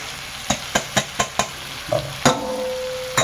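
Egg kheema with onions, tomatoes and masala frying in a pan at a Surat street stall, a steady close sizzle broken by a run of sharp rhythmic spatula taps, then scraping stirs and a faint high ringing tone.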